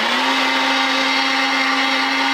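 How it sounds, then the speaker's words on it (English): A blender runs at steady high speed, mixing coconut milk, coconut rum and ice cream with a loud, continuous whirring motor drone and no pauses. "we're just gonna hit blend"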